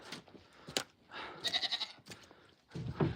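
Several goats bleat at close range in an evening homestead pen, a cluster of wavering calls followed by a louder bleat near the end, with shuffling in between.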